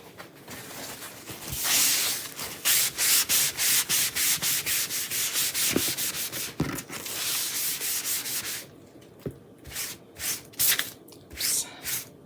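A chalk transfer is scrubbed onto a Christmas tier tray in quick, close, rhythmic rubbing strokes, bursts of dry scratching that pause briefly and then resume at a slower, uneven pace, with no voices.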